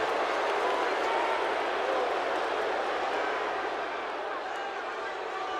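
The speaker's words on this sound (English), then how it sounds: "Man, this crowd is rabid towards Roman" Arena crowd noise in the WWE 2K18 wrestling video game, a steady, dense roar of cheering and jeering that holds loud throughout, with a commentator's voice faintly underneath.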